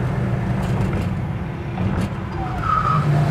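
A 1970 Chevrolet Nova Super Sport engine drones loud and close as the driver downshifts and runs through the gears, revs rising and falling with a brief surge near the end.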